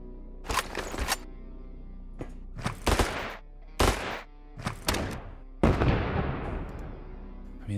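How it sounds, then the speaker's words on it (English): Smoke grenades and other explosives going off in the video game Quasimorph, a series of sharp, loud bursts with short gaps between them, some followed by a trailing hiss, heard with no talk. "That's also a smoke grenade"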